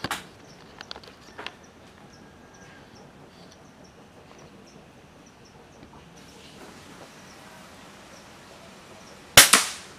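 An air-gun shot from a DWP air rifle at a thumb-sized iron target some 25 to 30 meters off gives a sharp, loud crack near the end, after a few faint clicks over quiet outdoor ambience.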